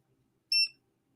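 A multimeter in continuity mode gives one short, clear electronic beep while probing near a live power connection, isolated in a quiet room.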